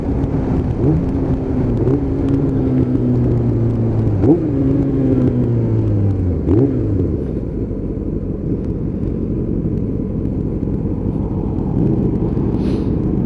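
Motorcycles ride by on an open road. Three engine passes rise and fall in pitch one after another, over a steady, loud bed of engine and road noise, and one rider passes close.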